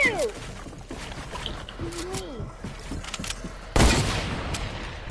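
Video game gunfire, scattered bursts of shots with a sudden loud blast near the end, mixed with voices and other game sounds.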